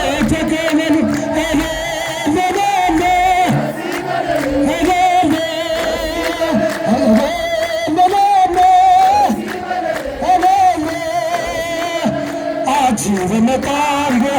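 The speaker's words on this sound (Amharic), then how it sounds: "እልል ብላችሁ እልልታ ጭብጨባ ከፍ አድርጉ" A crowd welcomes a procession, ululating and clapping without a break. Loud high trills and chanted voices ring close and overlap throughout.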